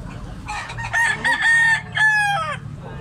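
A Sweater gamefowl rooster crows close by, one full drawn-out cock-a-doodle-doo with a strained, wavering tail, loud over faint background noise.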